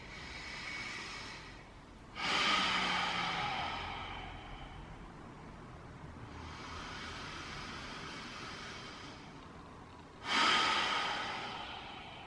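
Slow, mindful breaths during a relaxation exercise: two long, airy exhales about eight seconds apart, close and soft, with quiet room hiss between.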